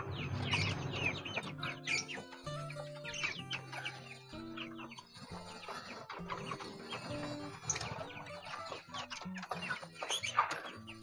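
Young chicks and hens on a poultry farm, clucking and chirping in overlapping calls, with a busy, close flock murmuring throughout and sharper peeps rising now and then.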